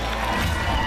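Crowd cheers and shouts for McDonald, a female competitor at an American Ninja Warrior USA vs The World event, a dense continuous roar with no individual voices standing out.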